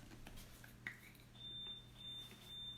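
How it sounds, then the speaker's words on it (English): A smoke alarm chirps in repeated high electronic beeps, about three evenly spaced tones, faint and distant in a quiet room with a low background hum. "Do you guys hear my alarm?"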